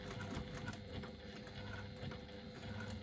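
Sewing machine stitching a strap connector, a rapid mechanical clatter of repeated needle strokes, close and fairly quiet, running steadily for a few seconds with no voices.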